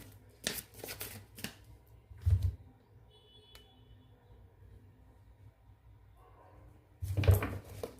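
Tarot cards shuffled and drawn by hand, heard as a few short riffling bursts near the start, another around two seconds in and a final burst near the end, separated by quiet room tone.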